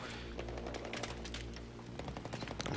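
Rapid gunfire from Battlefield 3 gameplay, a dense run of sharp shots and bursts rattling steadily over a low rumble, fairly loud throughout with no voices.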